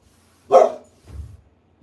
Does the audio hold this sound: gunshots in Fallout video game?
no